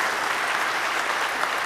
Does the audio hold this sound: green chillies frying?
no